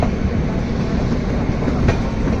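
A train rolls past close by at an Indian railway station at night, a dense steady roar with clattering wheels over the rails filling the whole moment.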